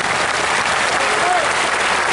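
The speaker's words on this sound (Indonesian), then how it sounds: "Umar, ayo tepuk tangan dulu" Audience applause during an Islamic lecture in Pekanbaru, a thick, continuous clapping from a large crowd, steady and loud with faint voices mixed beneath it.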